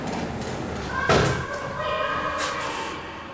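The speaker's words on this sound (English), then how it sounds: "Lift going down." Hydraulic lift by Cotswold Lifts at the Horniman Museum in London, its doors closing with a loud thud before the car starts down amid steady machinery hum; people talk nearby.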